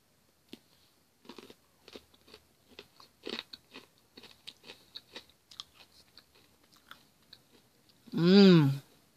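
Crisp milk chocolate toffee bar bitten and chewed up close, a run of sharp crunching bites and crackly chews in an uneven rhythm, ending with a loud humming voiced sound of enjoyment.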